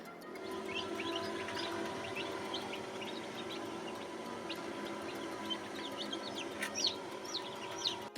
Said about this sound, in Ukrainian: Курчата вже лупляться.